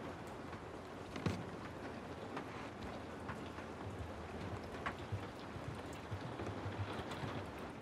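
Steady rain hisses across the scene in Uncharted: The Lost Legacy, a soft, constant wash of drops with a few sharper splashes and knocks, fairly quiet and with no talking.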